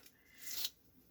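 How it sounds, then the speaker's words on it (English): Strip of tape peeled off a journal page, a single soft tearing rasp that swells and fades within about a second, close and quiet with no talk. "I'm just going to peel my tape off"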